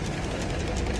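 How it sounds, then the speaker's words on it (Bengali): An industrial sewing machine drives its needle through fabric, producing a steady, dense mechanical whir with a low motor hum, loud and continuous throughout the short span with no voices. "নিডেলটা কী করতেছে কাপড়ের ভিতর ঢুকা দিতেছে, নিচে থেকে সেলাই হয়ে আবার আগাচ্ছে।"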